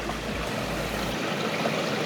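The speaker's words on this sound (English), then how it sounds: "Just give it a quick rinse down." Gold prospecting gear is rinsed in a New Zealand stream, a steady rushing, gurgling wash of flowing water close by with a continuous broadband hiss and no voices.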